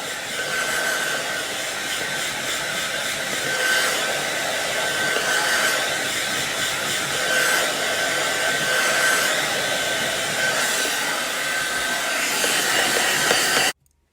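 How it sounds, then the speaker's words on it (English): A handheld hair dryer blows steadily on hair that has just been oiled, a loud continuous whooshing hiss with slight shifts in pitch as it moves, running unbroken for about fourteen seconds before cutting off abruptly. "Now, blow dry it."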